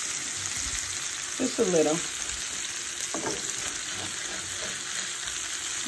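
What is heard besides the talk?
sausage sizzling in a frying pan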